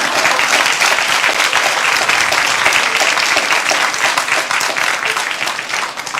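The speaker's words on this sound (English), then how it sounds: "Give yourself a round of applause." A reception hall crowd at a diplomatic evening honoring women breaks into loud, dense applause, sustained clapping filling the room for several seconds before it begins to thin.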